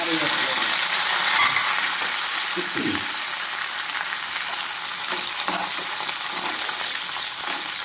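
Cumin, garlic, green chilli and curry leaves sizzle in hot oil, making a loud, dense, continuous crackle close by, with a few soft knocks of stirring.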